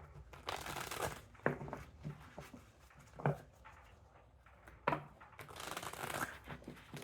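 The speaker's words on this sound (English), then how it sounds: "Do 2 more shuffles." Soft riffling and flicking of tarot cards being shuffled close by, in a few quiet bursts with pauses between them, no one speaking.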